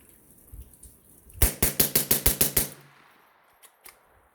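A GBD-22 rifle fires Federal Auto Match rounds in a rapid string of about eight loud, evenly spaced cracks, preceded by faint handling noise and followed by a couple of softer clicks.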